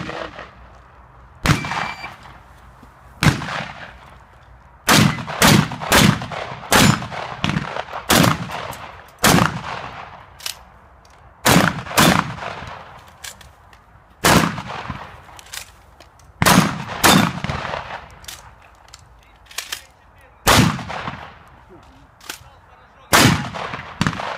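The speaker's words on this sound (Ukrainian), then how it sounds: "Зараз ви побачите, як я її стріляв." Gunshots ring out at a practical shooting match, with loud, sharp reports spaced at irregular intervals, some in quick pairs and clusters, and metallic clangs from struck targets echoing outdoors.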